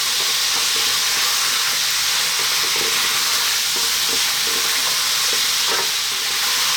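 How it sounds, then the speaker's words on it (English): Beef and vegetables fry loudly in a pan over fairly lively heat, a dense continuous sizzle with occasional stirring scrapes, close and steady without talk. "Stirring every now and then."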